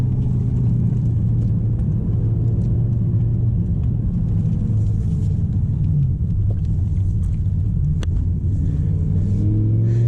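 A BMW M6 with a V10 engine and manual gearbox, droning steadily under acceleration from inside the car, a loud continuous low hum with rising tonal bands and no talk.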